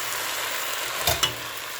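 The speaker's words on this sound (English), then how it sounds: "And stir." A pot of collard greens with turkey neck being stirred over a steady sizzling simmer, with two brief spoon scrapes or clanks close by.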